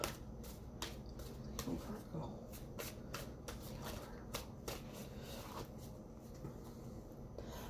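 A tarot deck being shuffled close up, with quick papery riffles and soft slaps of cards repeating in bursts while someone talks quietly over them.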